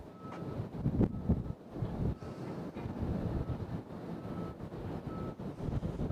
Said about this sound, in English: As the wind's blowing pretty healthily out here.